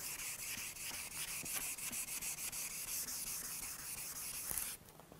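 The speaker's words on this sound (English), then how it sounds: "I'll just take the same sandpaper and use my fingers as a backing block." Hand sanding a guitar neck with 800-grit 3M flex sandpaper, fingers used as the backing, gives a steady, close, soft scratchy rubbing in repeated strokes that stops abruptly near the end.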